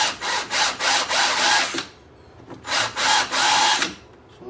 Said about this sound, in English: Really easy to drill, so.